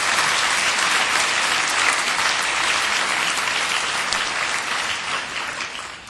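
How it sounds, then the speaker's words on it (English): Sustained applause from a banquet audience at a national legal convention dinner, full and steady clapping that fades slightly toward the end. "why don't we give everybody a round of applause."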